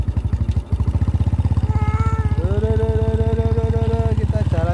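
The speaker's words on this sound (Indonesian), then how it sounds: "Ayo kita jalan naik motor." A motorcycle carries a family out for a ride, its engine a steady, close, low-pitched drone that runs the whole time beneath someone talking.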